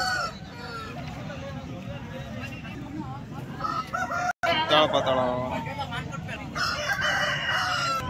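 Roosters and chickens crow and cluck at a rural sheep and poultry market near Bangalore, with repeated calls mixed into a crowd and nearby talking.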